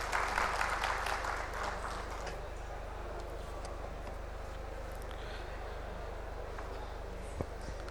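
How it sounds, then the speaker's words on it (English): Faint audience applause at a denim industry presentation, a steady wash of clapping that is fullest in the first two seconds and then thins to a soft, distant patter. "Let us have a big claps for the denim fraternity."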